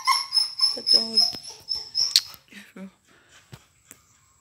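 A dog whimpers and yips in short high-pitched bursts close by, with a few fainter barks trailing off toward the end.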